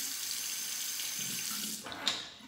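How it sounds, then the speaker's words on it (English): Hot water runs steadily from a tap over a straight razor as it is warmed before a hand-lathered shave, a close, continuous splashing hiss with a brief sharper splash near the end, no talking. "Temper the razor under the hot water."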